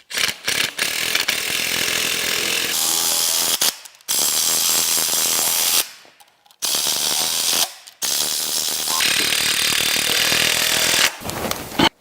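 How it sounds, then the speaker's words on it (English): Impact wrench running in exhaust manifold bolts on a Caterpillar 3406E C15 diesel engine, loud rattling bursts of hammering in several long runs separated by short pauses, close up. "Now we're going to run these in a little bit with an impact."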